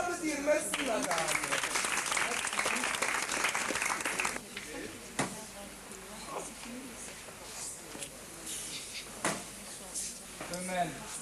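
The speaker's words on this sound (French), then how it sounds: "Oui, on va l'applaudir." An audience claps for a woman at a live show. Dense applause fills the first few seconds, then breaks off, and people start talking, with occasional sharp knocks afterward.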